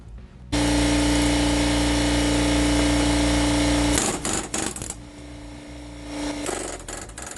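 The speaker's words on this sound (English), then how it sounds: "So more air hammer work here." An air hammer on old crane parts, stripping brackets and wires from a generator box: a loud, steady hammering drone for several seconds, then it stops and gives way to short, irregular bursts and clatter.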